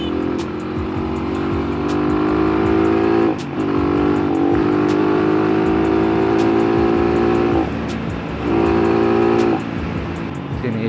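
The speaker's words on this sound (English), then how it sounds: "Sinisinok yung motor ko, ah." A Rusi Classic 250 motorcycle engine runs loud and close while riding on the road, droning steadily but briefly dropping out twice as it sputters and hiccups.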